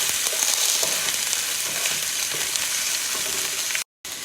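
Ginger garlic paste frying with golden onions in a pan, a constant close sizzle with occasional stirring scrapes, cutting out briefly near the end.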